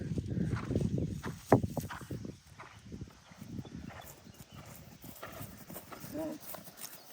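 A ridden horse's hooves clip-clop at a steady walking rhythm on a homestead riding area, fairly close, with a person talking over the footfalls throughout.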